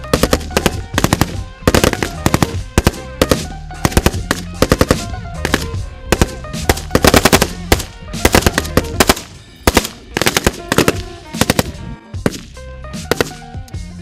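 Bursts of automatic and rapid rifle fire at a military training range where journalists shoot, loud sharp cracks in dense irregular volleys throughout, with a few short pauses between strings.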